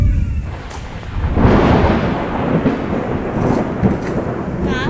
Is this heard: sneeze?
no